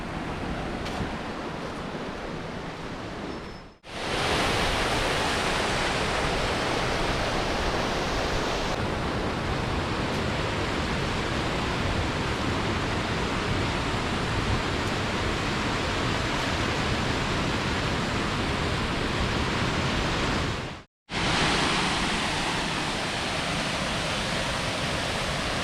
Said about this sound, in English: Over 2 miles in, we've made it to Big Laurel Falls